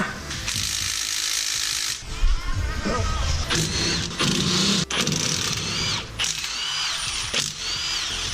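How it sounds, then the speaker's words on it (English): A ratchet works bolts loose from the cross members under a 510 car, producing rapid clicking and whirring bursts that run almost continuously at close range. "Take cross members off. Pull these bolts off and let the fluid spill out."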